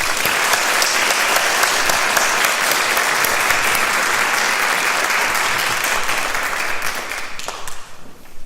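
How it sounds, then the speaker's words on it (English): Audience at a Northfield State of the City event applauds, a dense, loud wash of clapping holding steady for several seconds, then thinning into scattered claps before fading. "Let's give them all a round of applause,"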